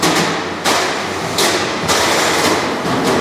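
A combat robot's hammer slams repeatedly into an opposing robot at a featherweight championship melee, loud heavy thuds about every second over a constant roaring arena and machine din.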